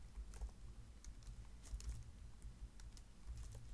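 Computer keyboard typing in a steady run of quick, light key clicks with a few louder strikes, close and alone with no talk.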